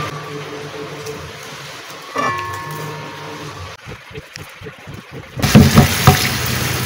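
Water pours into a cooking pot of split dried chillies for boiling, a splashing, filling rush that swells louder near the end after some clatter and quieter kitchen handling.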